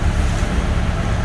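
Private boat under way on the sea near Dubrovnik, a close, steady rush of engine rumble, water and wind noise filling the brief moment without pause.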